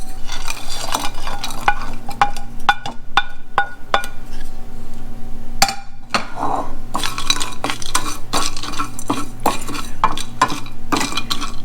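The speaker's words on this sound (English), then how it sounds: "I'm gonna toast it on the oven in the skillet for about 3-4 minutes, just to get it toasty" Ingredients for pho toast in a skillet on the stove while being stirred, giving continuous rattling and scraping with frequent metallic utensil clicks over a light sizzle, close and loud, no talk.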